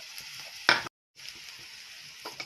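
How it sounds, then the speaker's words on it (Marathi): Peanut and green chili chutney sautéing in hot oil in a pan: a soft, steady sizzle with a louder stirring scrape, a brief silence, then quiet frying resumes. "आता इथे तव्यामध्ये मी तेल टाकून घेतलंय प्रथम जी चटणी घेतलेली आहे ती यामध्ये टाकून घ्यायची"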